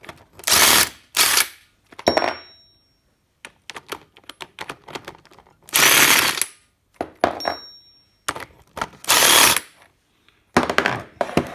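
An air impact wrench undoes the differential bolts on a Humber One Ton during backlash adjustment, loud rattling bursts of about a second each, separated by quieter clinks and mechanical handling noises, with no voices.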